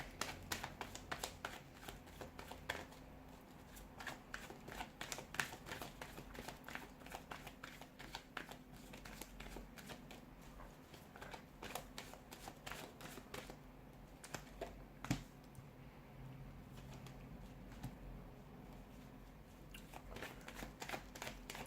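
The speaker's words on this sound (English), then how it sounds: "let's go ahead and give the cards a shuffle" Tarot cards are shuffled steadily and close up, a continuous run of soft riffling and flicking with brief pauses, and no voices.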